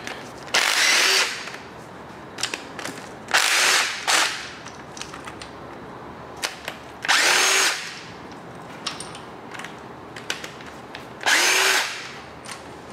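A power tool removes 10 mm bolts from the cylinder head of a 5.3L LS LM7 V8 engine in four separate loud buzzing bursts of about a second each, with quiet gaps between them.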